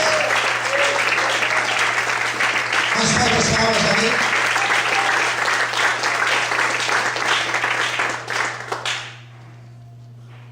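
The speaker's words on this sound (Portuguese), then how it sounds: "Todos podem aplaudir e glorificar o Senhor." Church congregation applauding to glorify the Lord during a sermon on Jesus and the Samaritan woman, dense loud clapping filling the room under someone speaking, then fading out abruptly near the end.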